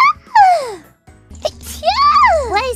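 A streamer's sneezes, high-pitched and strongly voiced: two squeaky, sliding bursts separated by a short pause, close and clear with no other sound.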